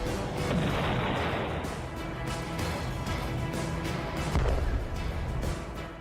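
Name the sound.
artillery cannon fire in Ukraine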